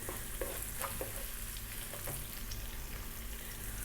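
Onion sizzling and frying in hot oil with curry leaves for a vegan spinach and sweet potato curry, a steady close crackle with occasional stirring clinks, no talking.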